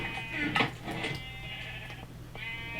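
Video game sheep in a sheep room bleat repeatedly in short nasal cries over a steady game hum, with a voice speaking faintly at times.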